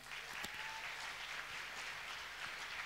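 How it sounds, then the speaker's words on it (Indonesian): A church congregation applauds dancers, a steady wash of many hands clapping at moderate distance that fills the whole stretch without a break. "Terima kasih sekali lagi tepuk tangan buat mereka"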